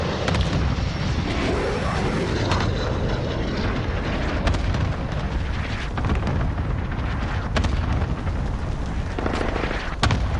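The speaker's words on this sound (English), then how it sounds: "Friendly cluster strike inbound." Airstrikes in a video game, with cluster bombs and aircraft: a continuous loud rumble of blasts and engine roar fills the whole stretch, with sharp crackling bursts punching through now and then.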